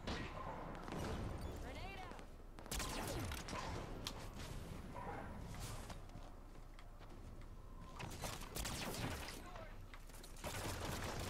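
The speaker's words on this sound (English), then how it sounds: "I don't know where I'm being shot from." Gunfire in the Halo 5 multiplayer shooter, rapid bursts and sharp cracks crowding a dense, busy game soundscape, with players talking over the action.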